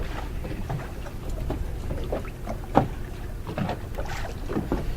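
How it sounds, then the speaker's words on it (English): Wind buffets a fishing boat on open water, a steady broadband rush and rumble with a sharp knock near the middle and faint splashes and creaks throughout. "And that wind picked up."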